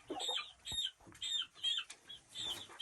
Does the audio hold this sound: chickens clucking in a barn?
yes